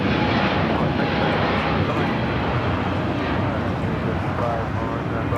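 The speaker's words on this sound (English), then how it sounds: "This is Virgin Atlantic Flight 8 taking off to London Heathrow on the A350 1000" A Virgin Atlantic Airbus A350-1000 jet airliner roars steadily during takeoff at Los Angeles airport, a broad, loud engine rush with no breaks, heard from a fair distance with wind noise and a voice talking over it.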